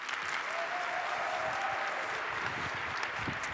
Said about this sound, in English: So please give a great applause to Cassidy Williams.